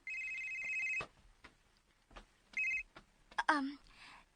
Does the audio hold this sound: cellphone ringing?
yes